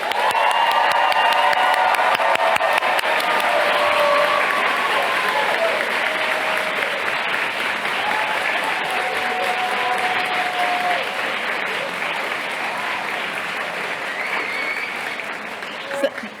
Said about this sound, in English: Let's give everybody a big cheer.